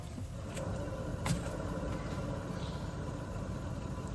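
A faulty rear wheel bearing on a MK3 Ford Focus spun up by hand, giving a steady, loud, continuous droning whir that holds an even level throughout, with a couple of brief clicks early on and no talk.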